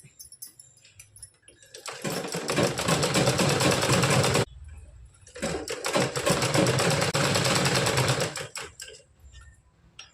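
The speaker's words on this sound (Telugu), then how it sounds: "ఓకే, చివరి వరకు అయితే కుట్టేస్తాను." A sewing machine stitches a blouse neck piece in two loud, fast, continuous runs of about two and three seconds, separated by a short pause, with quiet handling sounds before and after.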